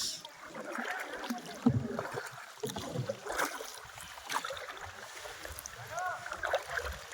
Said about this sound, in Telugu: బోట్ స్పీడ్ పెంచాము పెడ్లింగ్ అనేది స్పీడ్గా అవుతుంది